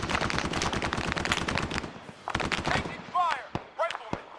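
Rapid bursts of automatic gunfire from an ArmA 3 battle, dense and loud early on, then breaking into scattered shots with short gaps, with voices calling out in the background.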